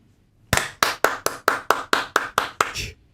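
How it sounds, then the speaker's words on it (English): About ten sharp, close hand claps ring out in a steady, even rhythm, each one crisp and separate, with silence before them. "After 1, I will do a clap."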